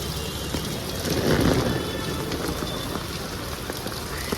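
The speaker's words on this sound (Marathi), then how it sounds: "It's like raining to heavily." Heavy rain pours steadily outdoors near a station, a dense continuous hiss of drops drumming on surfaces with a slight swell midway, with no voices.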